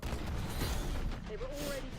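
Explosion in the Black Ops shooter game: a loud, dense rumbling burst with booming low end fills the short stretch, followed by a fading tonal sweep.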